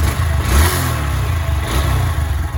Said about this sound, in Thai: นี่เดี๋ยวลองเบิ้ลเครื่องให้ฟังนะครับ